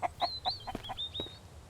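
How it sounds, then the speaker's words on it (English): A chicken in the survival game Mist Survival clucks in a short run of about eight quick, fairly close clucks with no talking. "The chicken can be a little bit loud."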